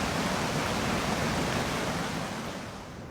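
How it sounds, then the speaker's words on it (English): Water released from a dam valve surges down a valley as a dense, continuous roar of rushing whitewater, loud and unbroken with no voices. "it's built itself, well, a raging river roaring down that stretch of valley"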